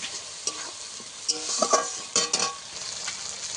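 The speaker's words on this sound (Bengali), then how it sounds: "এবারে ভালো করে কষাতে হবে মশলাটাকে" Ginger and spice paste for a fish and potato curry sizzles in a pan while a utensil stirs it in quick scraping bursts, close and fairly loud, with no talking.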